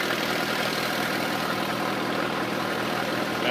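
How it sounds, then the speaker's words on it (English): A tractor engine idles close by while powering an irrigation pump on a produce farm, a loud, steady rumbling churn with low mechanical knocking that never changes pace, with no talk. "here's a close-up of the tractor"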